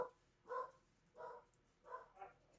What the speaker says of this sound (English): Just barking through the house.